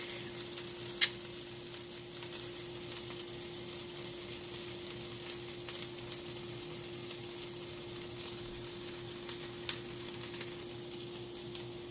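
Keto grilled cheese sizzles steadily in a pan, a soft, even crackle with a constant hum beneath it and a couple of sharp ticks, no voices.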